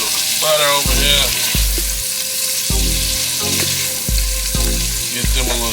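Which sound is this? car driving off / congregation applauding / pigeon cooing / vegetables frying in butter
vegetables frying in butter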